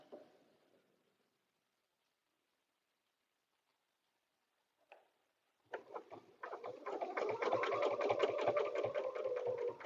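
Sewing machine stitching a paper-pieced butterfly dresser scarf quilt, starting after several quiet seconds with a brief click, then a steady close whirring run of rapid needle strokes lasting about four seconds.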